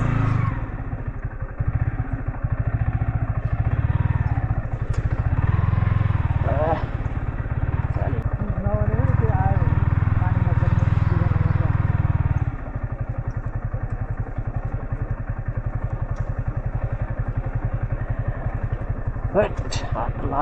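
A motorcycle on a rough, rocky off-road trail at Godawari Marble Danda, its engine rumbling loudly and steadily throughout with some thuds and clatter, while voices speak over it at times.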